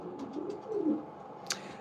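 Racing pigeons in a breeder's loft give soft, low cooing calls close by, a rolling throaty coo in the first second followed by a brief brighter flutter or chirp.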